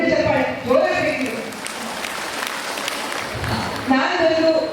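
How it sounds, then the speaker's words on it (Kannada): A crowd at a large public anniversary gathering in a hall claps together in sustained applause, loud and dense, with a speaker's amplified voice heard at the start and end. "ನಿಮ್ಗೆ ಎಲ್ಲರೂ ಸೇರಿ ಒಂದು ದೊಡ್ಡ ಚಪ್ಪಾಳೆ ಜೋರಾಗಬೇಕು"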